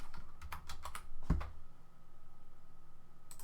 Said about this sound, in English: do I have to just type it in now?